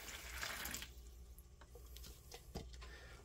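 Water pours into a tin for a paper mache mix of water and white glue, a close, steady splashing stream that tapers into a few drips and small trickles.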